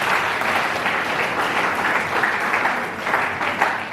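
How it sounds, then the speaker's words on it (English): Dense, steady audience applause at a Delta State government anti-drug event, loud and sustained for several seconds with no speech over it. "Please clap for him one more time."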